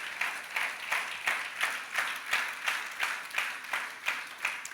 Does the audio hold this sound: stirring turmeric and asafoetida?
no